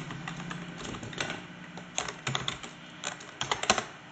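Typing code on a computer keyboard in Android Studio, with quick irregular clusters of close, crisp key clicks over about four seconds and no talking.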